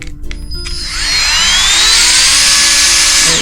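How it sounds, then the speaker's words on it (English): A small USB-C rechargeable vacuum pump switching on to draw air from a vacuum seal bag, a high, steady whining motor hum that climbs in pitch and holds loud and close after a few clicks of handling. "It comes with its own mini vacuum. You just press the button right there and"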